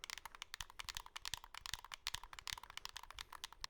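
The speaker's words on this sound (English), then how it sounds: "On the back, you've got what looks looks like those angled shoulder buttons, though they're a bit loud and clicky here." Loud, clicky angled shoulder buttons on an R36 MyMini handheld game console are pressed in a rapid, uneven run of sharp close clicks and taps.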